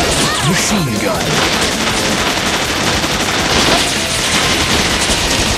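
Rapid, dense machine gun fire in the video game Bot Vice rattles loud and close for several seconds amid explosions and crashing game noise.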